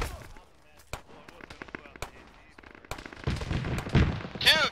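Gunfire in the military shooter Arma during a ShackTac squad session, with sharp shots and bursts cracking at intervals, some distant and some close, growing louder toward the end while players talk over it.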